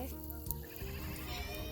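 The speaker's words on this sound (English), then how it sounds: "those are the goats" Goats bleating on a farm, several overlapping wavering calls in quick succession over a busy background of other animal noise, moderately close.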